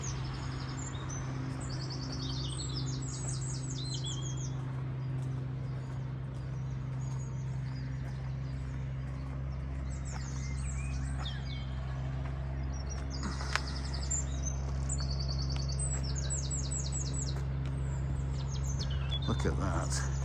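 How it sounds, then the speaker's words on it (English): Birds chirp and sing in short bright bursts throughout a spring park in Sheffield, over a steady low hum, with a person's voice now and then. "That's so lovely. With the birds singing."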